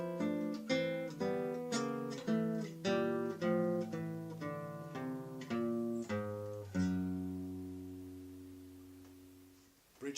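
Nylon-string classical guitar playing the two-voice ostinato from Villa-Lobos Etude 5, repeated plucked chords moving in a steady rhythm, then a held closing chord that rings out and fades, close and clear with no talking.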